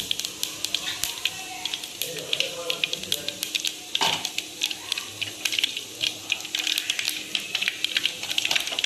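Cumin and mustard seeds sizzle and pop in hot oil in a home kitchen, a steady frying hiss dotted with sharp crackles and spatters, close and continuous with brief stirring noises.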